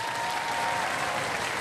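A studio audience at a robot combat show bursts into steady, dense applause, a continuous wash of clapping that holds at an even level throughout the short stretch with no voices.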